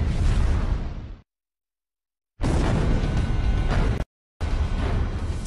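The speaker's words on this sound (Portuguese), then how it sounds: "Sem aviso, uma explosão com a força de uma bomba atômica atinge Tunguska, na Sibéria, em 1908." A dramatized explosion depicts the 1908 Tunguska blast in Siberia, with the force of an atomic bomb. It gives loud, dense, broadband roaring bursts that cut off abruptly, split by a stretch of silence and a short gap.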